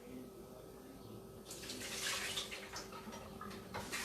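Tap water runs into a kitchen sink as eggs are rinsed, a steady broadband rush that starts about a third of the way in and continues fairly close to the end.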